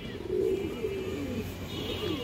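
A female Kajla pigeon gives soft, low, rolling coos close by over a steady background hum.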